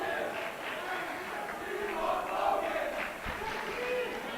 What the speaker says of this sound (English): The crowd is now pleading for Doherty to put in Josh Ellenbogen